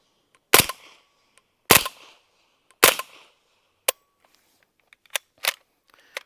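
An MP5 fitted with a Hush-Point .45 silencer fires subsonic ammunition. Three close, loud suppressed shots come at an even pace, followed by a few sharper but quieter clacks as the action cycles and then jams.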